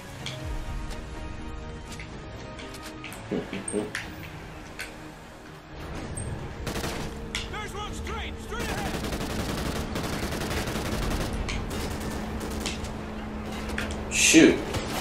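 PDW gunfire in a Call of Duty Ghosts campaign mission, rapid shots and scattered bursts over busy battle ambience, with voices talking throughout.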